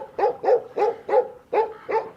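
A dog barks six times in an even rhythm, each bark close and clear against a quiet background.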